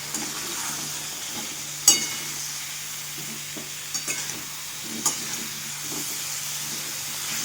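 Drumstick pods being sautéed in a pan with onion-garlic masala, turmeric, chili powder and salt, giving a steady soft fry hiss broken by a few sharp scrapes and clinks of the spoon.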